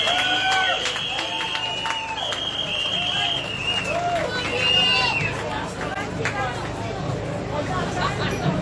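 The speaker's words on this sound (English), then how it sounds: "So can I get a big round of applause?" Audience applause fills a rally hall, steady clapping under a lively hubbub of cheering and chatter, with a whistling tone rising over the crowd in places.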